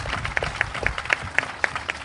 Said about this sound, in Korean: 성호 엄마, 동혁이 엄마께 큰 박수 부탁드리고요.